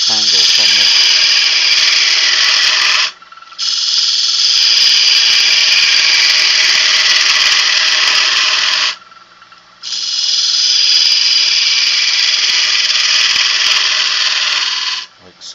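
Wood lathe spinning while a tool hollows out a wooden goblet, a loud, steady high rasping whine of cutting in three long passes broken by brief pauses.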